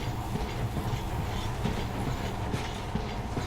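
A monorail train in Metro Last Light Redux rumbles along steadily, with a dense, continuous roar and faint rhythmic clatter throughout, heard up close and loud.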